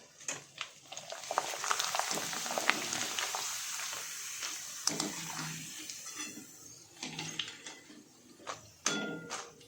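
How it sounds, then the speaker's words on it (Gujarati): Thin potato slices for chips drop into hot oil and begin frying with a bubbling hiss, punctuated by clatters of a utensil against the pan. "આપણે કાતરી તળવા નાખીશું એમાં."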